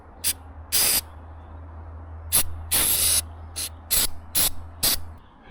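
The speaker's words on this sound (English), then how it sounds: "Spray 8 to 12 inches from surface." A Flex Seal aerosol can sprays sealant onto a gutter outdoors on a hot day, firing about eight short, sharp hissing bursts of varying length with quiet pauses and a faint low hum underneath.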